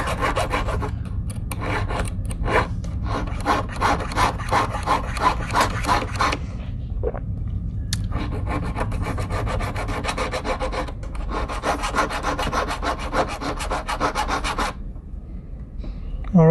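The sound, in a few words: filing a cast silver pendant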